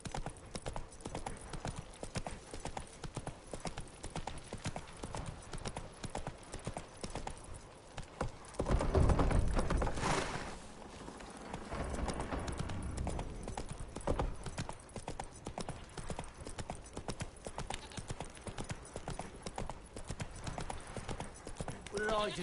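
Roach the horse gallops in Witcher 3, hooves drumming a steady, close rhythm throughout, with a louder burst near the middle and game voices talking over it.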